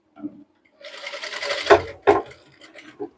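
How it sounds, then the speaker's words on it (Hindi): A sewing machine stitches a shirt sleeve cuff up close, running in several short bursts of rapid, loud needle chatter with brief pauses between runs. "यहाँ से इस तरह से सिलाई को लगा देना है।"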